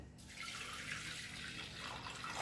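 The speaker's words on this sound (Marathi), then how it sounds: "आणि त्यामध्ये पाणी घालायचं" Water pours steadily into a pressure cooker holding toor dal and roasted fenugreek seeds, a soft continuous splashing stream close by with no talk.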